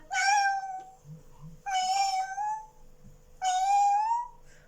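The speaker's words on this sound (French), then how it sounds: "Mais là, on a un chat." Three drawn-out cat meows, close and clear, spaced about a second apart, with faint low rustling between them.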